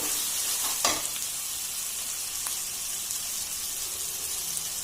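Onions fry with chili powder in a pan for an onion egg curry, giving a steady bright sizzle throughout, broken by a couple of scraping stirs of a spoon near the start and middle.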